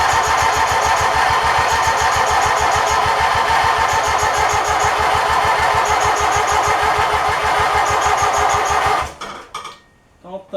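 An engine cranks and chugs with a fast, even mechanical pulse, loud and close for about nine seconds, then cuts out, leaving scattered clunks and handling noise.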